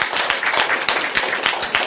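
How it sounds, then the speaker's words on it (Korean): A classroom of students clapping together, a brief burst of dense, steady applause close by without talk over it. "박수 한번 쳐주세요."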